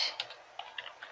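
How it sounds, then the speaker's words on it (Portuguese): A few quick keystrokes on a computer keyboard while entering a search on Google, close and fairly quiet, a short burst of light clicks with no talking. "Aqui nesse campo de pesquisa do Google, a gente vai escrever MP3"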